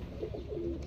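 Pigeons coo in a loft of long-bodied breeding birds, a low murmuring coo with a couple of soft throaty rises over a steady background hum, no voices.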